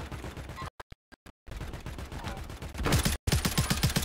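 Gunfire in Call of Duty Warzone, rapid bursts of automatic shots broken by brief silent cuts, with heavier, denser firing near the end, loud and close.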